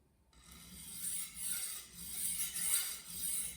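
A KAI Santoku knife of VG10 steel drawn lightly across a waterstone, giving soft repeated rasping strokes in a steady rhythm, close and fairly quiet with no talking.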